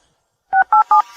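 Three quick, loud telephone keypad tones sound in an even rhythm after a short silence, followed by a faint tone.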